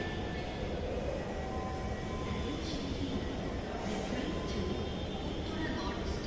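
A Dhaka metro rail train stands at the platform at night, giving a steady, loud rumbling drone with a high whine that does not let up, while faint voices murmur nearby.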